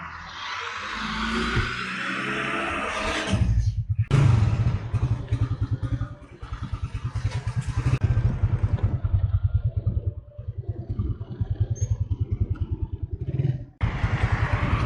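A Raider 150 Fi motorcycle rides along toward downtown, its engine droning loudly and closely with rapid pulsing beats, dipping briefly around shifts and picking up again, with wind rushing over the microphone.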